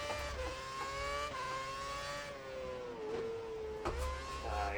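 Williams Formula 1 car engine in F1 2011, a steady high whine rising and falling as it rounds a corner at the Hungarian Grand Prix, loud and continuous with no talk.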